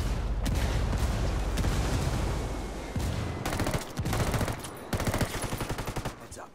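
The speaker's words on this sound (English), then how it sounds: "Mortars. Get out of the mortars!" Heavy weapons fire in Ghost Recon Wildlands, with mortar impacts among sustained rapid gunfire and sharp repeated blasts that keep up loud throughout, with a voice shouting briefly over the din.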